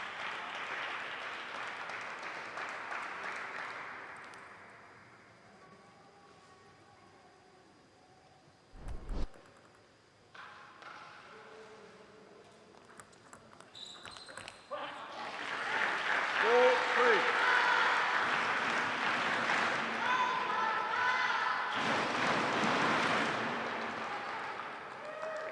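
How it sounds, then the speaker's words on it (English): A Bay Area crowd at a Major League Table Tennis match cheers and applauds for their coach, a broad, loud wash of clapping and voices that swells in two long bursts after quieter stretches with scattered noises. "Bay Area crowd cheering for their coach."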